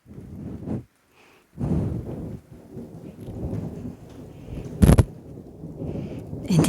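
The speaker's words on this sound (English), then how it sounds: "And it's very thundering outside. Soft raindrops." Thunder rumbles through a dark, stormy sky over a garden while soft rain patters. Several rolling bursts come and go with brief quiet gaps, and one sharp, loud crack arrives near the end.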